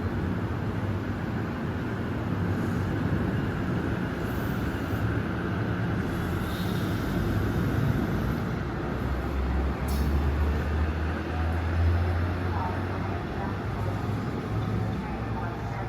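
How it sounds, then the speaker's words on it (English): A MARC double-decker commuter train passing trackside on the old Baltimore–Washington Northeast Corridor line, a loud sustained rumble and rush of rolling wheels close by, steady for the whole stretch with someone talking over it. "this train makes a round trip to Perryville"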